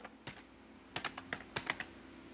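Typing on a computer keyboard while entering a username for a new Gmail account: a short, quiet run of irregular, crisp key clicks, some in quick clusters, in a calm indoor room.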